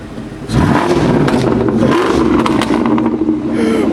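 A straight-piped 2003 Mustang Cobra with Borla exhaust revs hard nearby, a loud, raspy engine roar that rises and falls through a quick rev, with no talking over it.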